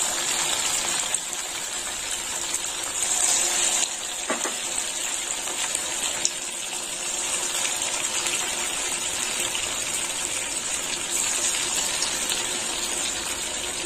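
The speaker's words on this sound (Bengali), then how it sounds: "এবার পকোড়াগুলো ভেজে নেবো" Neem flower pakoras frying in hot oil over a low flame, a steady bright sizzle and hiss that runs evenly throughout with a brief crackle near the middle, close and fairly loud, with no talking.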